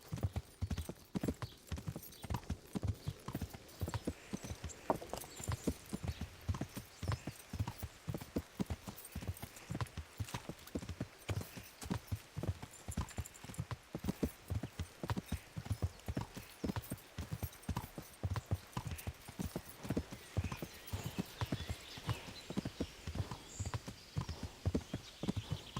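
Steady horse hooves clip-clop in Kingdom Come: Deliverance, a continuous rhythmic trot of even footfalls at close range with faint ambient background throughout, and an occasional whinny.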